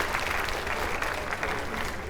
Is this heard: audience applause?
yes